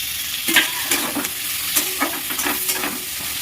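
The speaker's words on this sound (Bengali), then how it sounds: "এটা ভাজা ভাজা হয়ে গেছে, এর মধ্যে এবার টমেটোটা দিয়ে দিলাম।" Tomatoes frying in a hot pan give a continuous hissing sizzle with repeated stirring scrapes at an irregular pace, near and moderately loud, with no voices.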